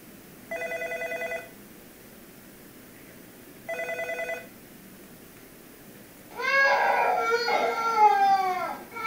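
A telephone ring is played during a Qualcomm research demo: two electronic ringing bursts, loud and clear, separated by a pause. A recorded baby crying follows right after.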